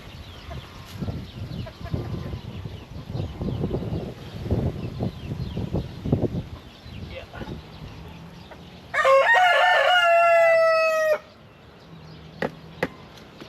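Rooster crowing in a backyard flock in Taiwan: after soft clucking and rustling, a loud, close single crow rings out for about two seconds, then a few sharp knocks.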